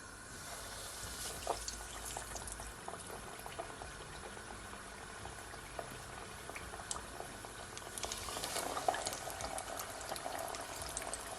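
Fried apple pie cooks in oil in a pan on a medium-heat stove, giving a steady, soft bubbling and sizzling hiss with scattered light pops, fairly quiet and continuous with no voices.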